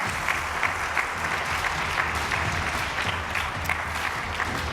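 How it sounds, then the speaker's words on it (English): Steady, dense clapping from a conference audience welcoming a panel to the stage at an opening plenary session, even and sustained with no pauses. "give a nice round of welcoming applause to this team"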